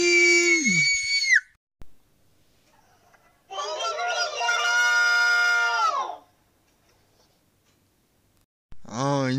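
Several family members scream a name in long, drawn-out, high-pitched shouts, loud and close, in separate bursts with quiet pauses between.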